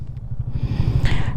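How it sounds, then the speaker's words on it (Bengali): A dirt bike climbs a hill trail, its engine a close, throbbing rumble that swells louder toward the end of the brief moment, with no talking. "ওই যে ডার্ট বাইকের লোক ডার্ট বাইক নিয়ে পাহাড়ে উঠে গেছে"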